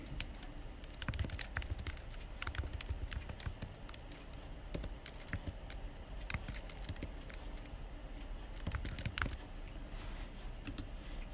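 Rapid, uneven clicking of typing on a computer keyboard, close and fairly quiet, with bursts of keystrokes and short pauses, no talk.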